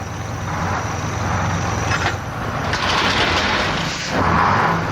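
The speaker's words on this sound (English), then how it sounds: "This is the sound of the most dreaded vehicle on the road today, the tow truck" A heavy tow truck engine rumbles steadily at close range, with rising and falling surges and a brief hiss like an air brake near the end, with no voices.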